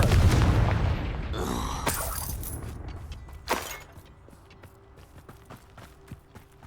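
Confringo fire-blast spell explosions in the Hogwarts Legacy PC game: a loud opening blast, then a sharp burst midway and scattered smaller cracks and clatters fading into quieter game ambience.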